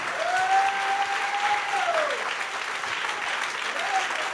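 A church congregation applauds and cheers, a steady wash of clapping crowd noise, while a voice rises in a sustained call over it.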